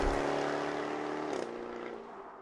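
A Jaguar F-Type Roadster sports car pulls past on the road with a loud, close engine drone that holds strong, then shifts pitch and eases off partway through.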